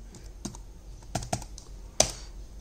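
Keystrokes on a computer keyboard as a shell command is entered to unlock a Motorola Moto E phone: a handful of sparse, crisp clicks with one sharper final tap, close and alone.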